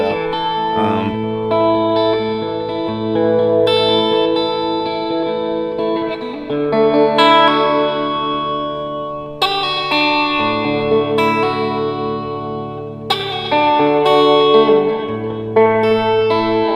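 An electric guitar plays sustained chords and notes through a REVV D25 amp, washed in echoing delay and reverb, loud and alone with no talking.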